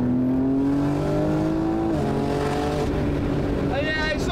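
A tuned BMW M3 is driven at about 60 mph. A loud, steady engine drone fills the cabin and shifts in pitch partway through, with road noise underneath.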